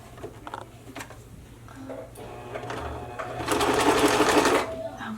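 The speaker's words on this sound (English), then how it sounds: "I'm going to pivot and sew towards the corner." Sewing machine stitching fabric toward a corner for a vintage jumper dress: a steady mechanical whirring run that builds and holds loud near the end, after softer clicks and handling noises.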